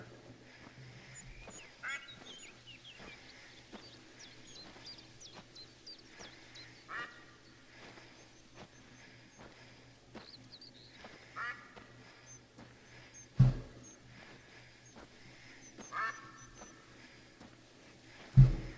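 Distant ducks quack repeatedly in theHunter: Call of the Wild, scattered bursts of calls over a soft outdoor backdrop, with a few louder thumps near the end and no voices.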